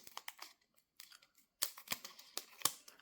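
Scissors cut open a trading card pre-release pack, sharp snipping strokes and crinkling foil in close, quiet bursts, sparse at first and then denser and louder in the second half.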